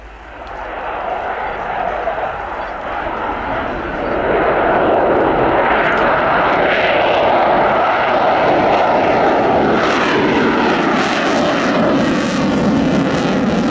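A Sukhoi Su-27 Flanker jet flying a sunset air display at RIAT 2018 roars loudly overhead, a broad rushing engine noise swelling and holding steady, with a commentator talking beneath it.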